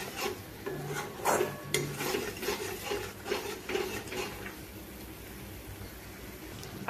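Butter paneer being stirred and sautéed in a pan, a spatula scraping and rubbing against the pan in soft, irregular strokes over a faint sizzle, close and fairly quiet.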